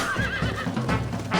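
A horse in the video game Red Dead Redemption lets out a short, clear neigh with a wavering whinny, followed by a few soft hoof clops.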